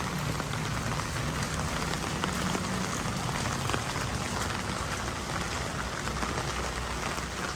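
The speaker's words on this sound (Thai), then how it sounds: "ฝนตกค่ะ" Steady rain falls on surfaces all around in Korea, a dense, even patter that continues without pause and without voices.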